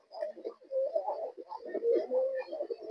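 Pigeons for sale, a male and female pair among others, cooing close by in a steady run of low, throaty murmurs that rise and fall across the whole stretch with no talk.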